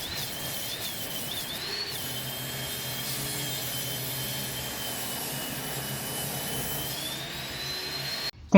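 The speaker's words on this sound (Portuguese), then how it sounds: "Regulei a guia na largura desejada e cortei a outra lateral do corrimão." A saw rips steadily along the side of a wooden stair handrail guided by a fence, a continuous whining cut with a high tone holding for about eight seconds, close and loud, then stopping abruptly.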